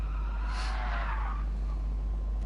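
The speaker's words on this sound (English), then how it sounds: "in the meantime I hear the skids, which can only mean one thing, and that is that John has arrived" Car tires skid in one long squeal at a driving event, rising and fading over a couple of seconds against a constant low rumble.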